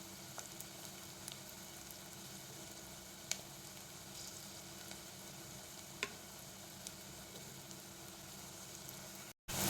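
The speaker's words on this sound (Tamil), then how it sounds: "நல்லா வதக்கி கொடுத்துருங்க ரொம்ப வத வதங்க வேண்டாம் மீடியமாக வதங்கினா போதும்" Crushed garlic sizzles steadily in a clay pot while being sautéed for a fish curry, a continuous close frying hiss with faint occasional pops and stirring, no voices.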